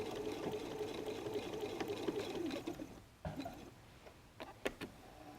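A sewing machine back stitching a messenger bag, running as a steady, quiet mechanical whir for about three seconds before stopping, followed by a few faint clicks and handling sounds.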